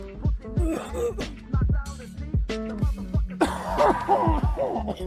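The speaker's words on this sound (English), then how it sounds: "Man, these coughs are getting to me, bro." A man repeatedly clears his throat and gives short coughs up close, a series of rough bursts separated by brief pauses.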